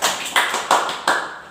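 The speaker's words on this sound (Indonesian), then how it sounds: "Beri tepuk tangan buat kelompok 2." Four sharp, evenly spaced hand claps in a classroom, each a crisp close slap with a short decay, about a third of a second apart.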